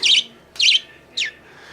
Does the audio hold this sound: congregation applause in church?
no